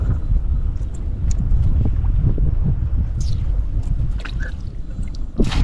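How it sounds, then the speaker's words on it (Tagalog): Wind gusting steadily over a boat out on the water, a continuous low rushing roar with buffeting against the microphone, a few faint higher clicks and knocks scattered through it. "Mahangin."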